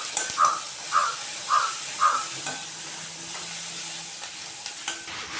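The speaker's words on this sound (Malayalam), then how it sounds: "ഇതിലേക്ക് കറിവേപ്പില ഇട്ട് കൊടുക്കാം." Curry leaves go into a hot pan for a prawn roast served with coconut rice. A soft, close frying hiss runs under a few light stirring scrapes, and crows caw four times early on in the background, with no talk.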